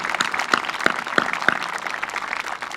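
A graduation audience outdoors on bleachers gives scattered applause, with several sharp claps standing out over a steady, moderately distant patter.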